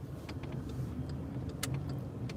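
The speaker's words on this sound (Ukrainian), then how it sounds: "Набираємо швидкість, переходимо на вищу передачу" A car on a driving exam route gathering speed and shifting up a gear, heard from inside as a steady low engine drone and road rumble with a few small clicks from the cabin.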